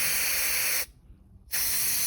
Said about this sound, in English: can of spray, and that will run down inside that crack